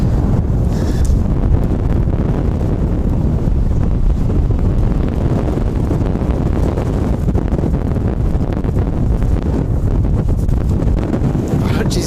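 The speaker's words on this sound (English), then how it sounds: "For the wind, it gives some interesting landings, but it's also a little bit tough to try and negotiate the camera and fight against it a little bit." Strong gusts roar steadily across a microphone at Wellington Airport, a loud, continuous buffeting rush with no pauses and a faint voice beneath it.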